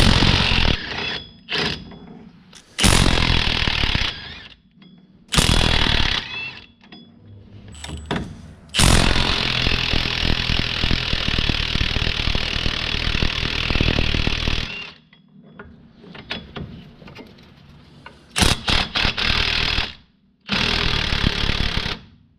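A power tool rattles in repeated loud hammering bursts while removing the rear hub nuts on a 1965 Corvair, with one long run in the middle and short pauses of quiet between bursts.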